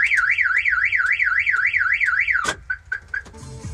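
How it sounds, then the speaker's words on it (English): The alarm of a 1947 Dodge Brothers car fitted with a Ford Lightning V-8 wails in a fast rising-and-falling warble, then cuts off abruptly, leaving brief clicks and faint background noise. "Oh, there goes the alarm."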